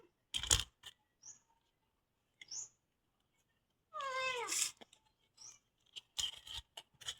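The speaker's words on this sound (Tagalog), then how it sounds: "Nanghihingi na naman yung pusa." A cat begging for food at a meal of ube and fried dried fish lets out a single close, clear meow that falls then rises, with scattered soft clicks and taps of eating around it.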